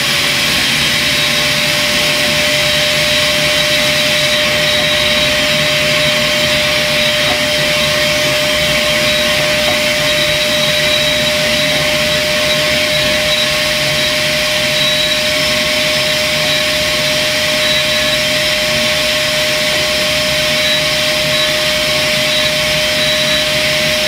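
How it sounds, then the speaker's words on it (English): A record cleaning machine vacuums fluid off a vinyl record, a loud, steady whining suction roar with a constant high tone that runs unbroken throughout, with no talking. "And vacuum that off."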